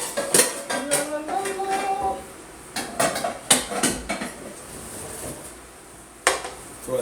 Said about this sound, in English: So let's grab one of our cooking with grains pans again.